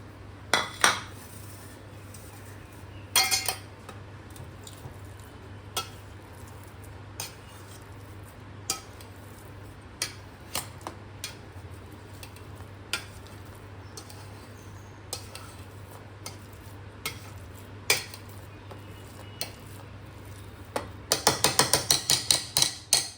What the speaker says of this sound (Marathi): तर आता सर्वात पहिलं आपण हे जे पोटॅटोज बॉईल करून घेतले ते मॅश करून घेऊया.